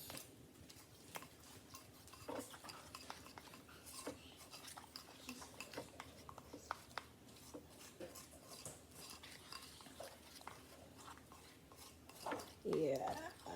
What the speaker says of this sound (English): I'm going to mix it because I want it very smooth.